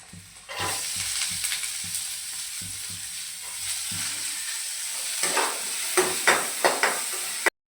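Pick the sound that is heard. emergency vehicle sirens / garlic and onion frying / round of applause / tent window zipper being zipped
garlic and onion frying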